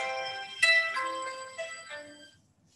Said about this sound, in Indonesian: mohon maaf, benar ada telepon Pak Yudan ya.